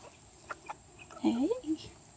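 A chicken gives a short rising cluck and a quick squawk, close by, over faint background noise with a couple of soft knocks before it.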